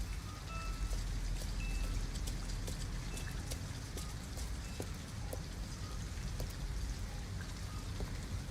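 Steady rain falling in Detroit: Become Human, a dense even patter of drops on surfaces with a low rumble underneath, with no voices.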